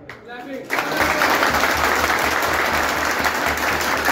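An audience at a pigeon-flying club prize-giving ceremony breaks into dense applause after a brief voice. The clapping swells quickly and holds steady and loud to the end.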